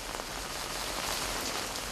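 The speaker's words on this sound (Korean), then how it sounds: "더위로 바짝 마른 땅을 적시는 빗방울을 헤치고" Steady patter of rain falling on dry ground at an onggi pottery workshop before dawn, soft and even, with no other sounds.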